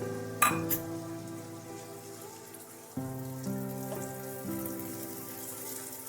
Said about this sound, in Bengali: বাটি ধোয়া যে জলটা আছে মশলার সেটাও দিয়ে দিলাম।